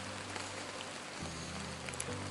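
Rain falling outdoors during a five-day Alaska adventure race, a constant soft hiss of drops with a low steady hum underneath, no talking.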